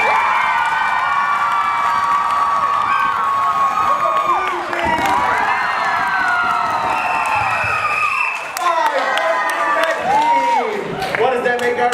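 A comedy improv audience shouts and cheers loudly for rival red and blue teams, a sustained roar of whoops and high children's yells with some clapping, dipping briefly and swelling again.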